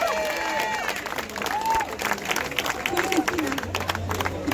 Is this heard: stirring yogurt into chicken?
no